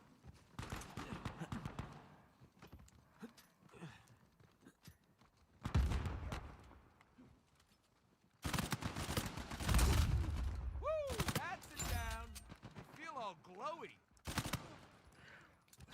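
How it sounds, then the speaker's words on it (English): Sniper rifle shots fired into the sky in the Uncharted video game crack out as loud, sharp bursts spaced across the stretch, with quieter gaps between them and players talking at times. "Jar is shooting the sky with a sniper."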